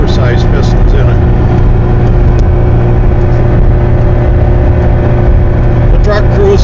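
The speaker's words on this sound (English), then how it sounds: "The truck cruises along on the level real nicely at 55 miles an hour" A restored Subaru 360 truck with a rebuilt, oversized-piston engine cruises at speed on level road, a loud, steady engine drone and road rumble throughout as someone talks over it.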